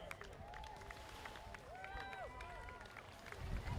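A crowd at the finish line of the Rottnest Channel Swim cheers, whoops and claps for arriving swimmers, a lively but moderately distant mix under an announcer's voice.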